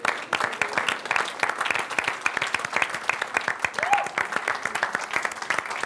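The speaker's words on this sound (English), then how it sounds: "If we all could just give him a little bit of a round of applause, he'd appreciate that." A studio crowd at a Street Fighter V esports broadcast, the Gfinity Elite Series, claps for a guest joining the desk, sustained dense applause with sharp individual claps that holds steady throughout.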